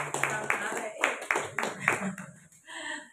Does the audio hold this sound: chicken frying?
no